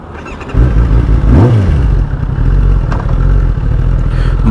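A rented Kawasaki ZX10R sports motorcycle fires up close by in Thailand, its engine catching and then revving sharply once before settling into a loud, rough idle.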